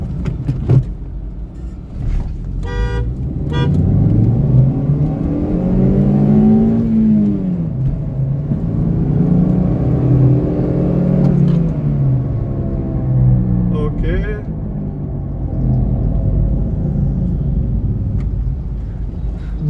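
Honda Civic 8th generation with VTEC engine pulling hard in second gear from inside the car, a loud rising rev climbing to a peak, easing, then rising again, with steady road rumble and brief clicks; no talking.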